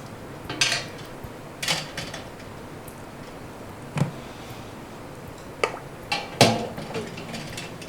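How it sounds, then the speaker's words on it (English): Glass canning jars set one by one into a water-bath canner while home-canning pickles, giving a handful of sharp glassy clinks and knocks spaced irregularly across a quiet background. "And here we are loading the canner up."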